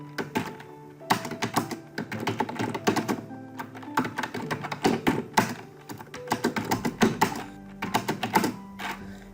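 Typing on a computer keyboard, a close, continuous run of quick key clicks and thunks in uneven bursts with short pauses, no talking.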